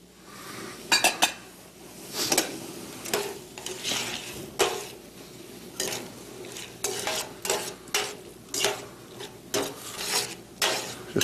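Stirring braising liquid of apple juice and apple cider vinegar in a pan for short ribs: close, irregular scraping and clinking of a utensil against the pan in repeated strokes, with a soft sizzle underneath and no talking.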